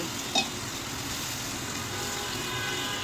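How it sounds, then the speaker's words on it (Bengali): Spiced chicken kofta masala sizzling loudly in a pan after a splash of milk, a dense, continuous frying hiss with one brief sharper burst near the start, close and unbroken without talk. "সামান্য কিছু দুধ দিয়ে কষিয়ে নিচ্ছি"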